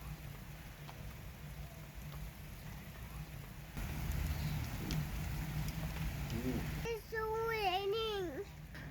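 Light rain falls outdoors in Istanbul as the first snow begins, a steady soft hiss throughout, growing slightly denser midway, with a voice rising over it near the end.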